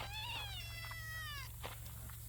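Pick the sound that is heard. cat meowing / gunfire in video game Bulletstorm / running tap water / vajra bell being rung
cat meowing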